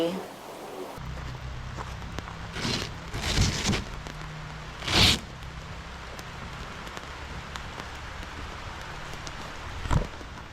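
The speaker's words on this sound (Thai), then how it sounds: "ฝนตก มาถึงปุ๊บ ฝนตกปั๊บเลย" Rain falls at a tent campsite at Na-Wana in Chaam, Saraburi, Thailand, as a steady pattering hiss broken by a few louder thuds and rustles.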